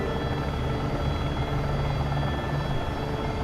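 AS350 B3+ helicopter lifting off in a flight simulator, a steady, loud rotor and turbine roar that fills the whole stretch without a break, with no voices over it.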